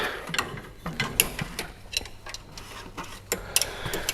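A hand ratchet with an Allen key bit clicks in quick irregular bursts while unscrewing the coolant bleed screw on a Holden Colorado, close and fairly quiet with no talk.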